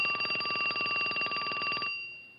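Old-fashioned telephone bell ringing in a film scene, a steady rapid trill sounding alone and fairly loud for about two seconds before cutting off.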